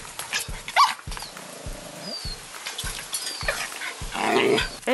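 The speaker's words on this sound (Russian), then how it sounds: "Эва, мудрая собака, тоже сегодня ругала Юми, маленькую проказницу." Dogs growl and snarl at a puppy in short, repeated bursts, with rough low rumbles and occasional sharper yelps, all close by and fairly quiet.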